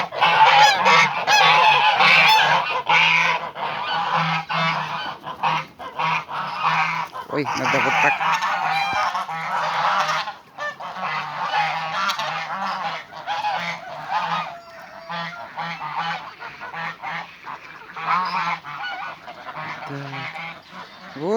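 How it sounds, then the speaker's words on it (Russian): Farmyard geese let out of their enclosure in the morning, honking repeatedly and loudly nearby in a continuous noisy chorus, with a person briefly speaking among them. "Это наши гуси."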